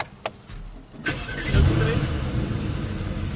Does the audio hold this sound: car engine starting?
yes